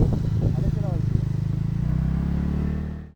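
A motor scooter's engine runs rough and sputters, then dies away, with a steady low throb and irregular knocking that fades out at the end; a voice speaks briefly over it.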